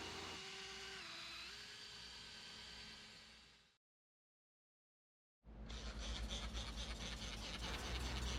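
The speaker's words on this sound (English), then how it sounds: "and start sanding" A headlight lens is wet-sanded with water-soaked sanding pads on a backing plate from a Pittsburgh Deluxe Lens Renewal System, giving a steady, harsh whirring hiss that cuts out for almost two seconds and then resumes louder and rougher.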